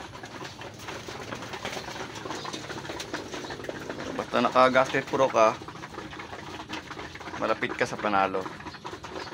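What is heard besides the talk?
pigeons cooing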